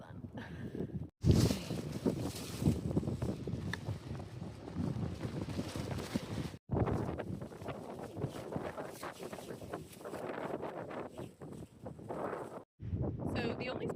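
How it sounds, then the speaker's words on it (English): Strong wind gusts across a desert by a yucca tree and buffets the microphone in a constant loud rumble, cut by a few brief silences. A voice talks faintly beneath it. "that yucca tree, now has so much wind I can't even sit there"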